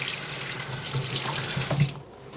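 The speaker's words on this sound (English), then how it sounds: "Wash my hands." Tap water runs into a sink as hands are washed in a home kitchen, a steady close splashing flow that cuts off near the end.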